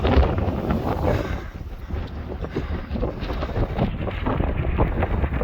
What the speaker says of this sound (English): Beautiful. But crazy windy.